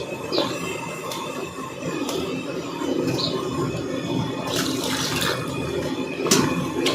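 Water being poured and mixed into boondi flour batter in a village kitchen, a steady wet splashing and trickling with a few brief louder pours, close by and without talk.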